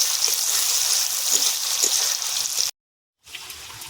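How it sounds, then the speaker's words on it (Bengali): Chopped onions frying with bay leaf and garam masala in a pan on a home kitchen stove, a steady close hissing sizzle that cuts out briefly and then resumes. "এবার ভালো করে ভাজা ভাজা করব।"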